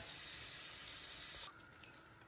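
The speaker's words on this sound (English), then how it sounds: "let's let those fry" Shrimp frying in hot oil for a homemade crawfish etouffee give off a dense, loud, steady sizzle that cuts out abruptly partway through, leaving a few faint crackles.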